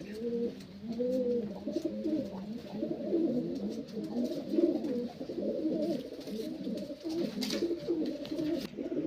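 Pigeons coo steadily in a loft, several birds overlapping in a continuous, throaty, rhythmic murmur close by, with no voices.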